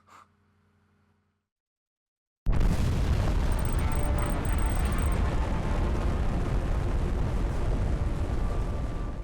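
A missile striking an oil field in Just Cause 2 erupts into a sudden, loud explosion after a couple of seconds of near silence, followed by a sustained roaring, rumbling blast that slowly fades over several seconds.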